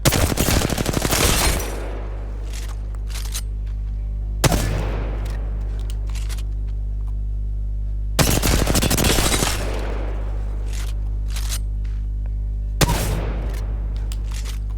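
Bursts of R-301 rifle fire in the shooter game Apex Legends, loud rapid volleys of several shots each, separated by brief pauses with a low steady hum beneath.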